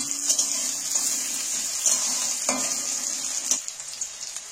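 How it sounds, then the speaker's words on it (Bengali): Chopped onions frying in hot oil in a wok, a steady close sizzle with faint stirring scrapes and small bursts of spatter, no voices. "এবার আমি পেঁয়াজগুলো তুলে দিচ্ছি"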